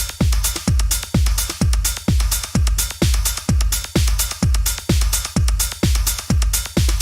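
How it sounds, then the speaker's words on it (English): Techno snare hits in an Ableton Live track, a punchy repeating pattern of about two strikes per second over a steady kick pulse, loud and alone with no talking. "now here's the snare. And normally it would sound like this."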